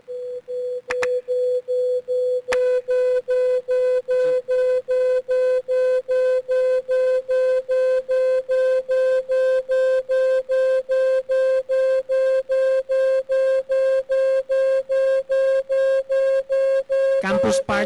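A steady electronic tone with a bright harmonic buzz, held almost unbroken as a colour-to-sound conversion of people's eye colours, pulsing rapidly and evenly at a loud level after a brief quieter start.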